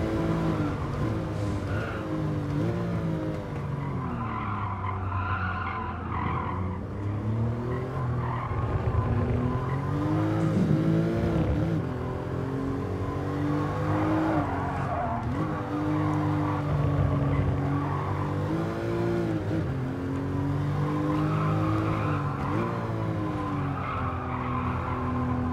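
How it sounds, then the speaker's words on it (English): A car drifts in the racing game Gran Turismo Sport, its tires squealing continuously for the whole stretch, loud and up close, over a steady engine drone with wavering pitch as it slides around the corner. "specifically this car is drifting all the way around"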